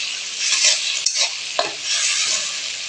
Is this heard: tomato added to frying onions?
yes